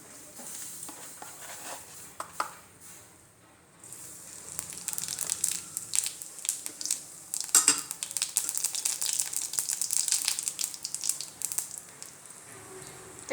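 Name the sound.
cumin seeds frying in hot oil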